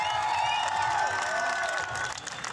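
A crowd at the FISE Montpellier scooter freestyle spine ramp men's final cheers and whistles in a continuous, fairly loud wash with scattered clapping, and some voices carry through.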